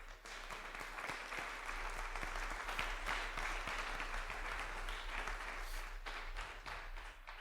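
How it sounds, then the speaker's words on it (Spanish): A church congregation claps steadily throughout, a dense wash of applause from a sizable crowd at moderate distance, with no speech on top. "Dale un aplauso."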